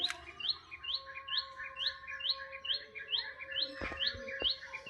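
A young pigeon gives a quick series of about a dozen evenly spaced, high squeaky chirps, close and clear, with a few soft knocks near the end and no voices.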